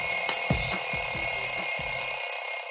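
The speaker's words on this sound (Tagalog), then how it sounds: "Tiyak marami sa atin, bad trip kapag tumurog na alarm tuwing umaga." An alarm clock rings in a morning room, a steady high electronic tone running throughout with a few soft knocking thumps beneath it.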